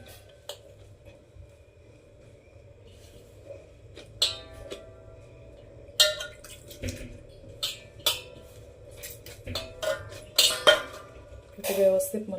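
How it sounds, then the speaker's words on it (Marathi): Ragi flour dough is kneaded by hand in a metal vessel as water is added a little at a time, giving soft squishing and scattered clinks and scrapes that grow busier toward the end, with a voice talking at times. "आता थोडा थोडा पाणी टाकून मळून घेऊ आपण"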